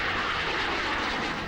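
Chinese fighter jets dispatched toward Taiwan roar overhead in news footage, a loud, steady broadband engine rush holding without a break for the whole stretch.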